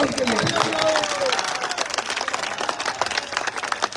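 A crowd at a political rally in Lahore claps, a broad dense patter of applause with a voice sounding over it.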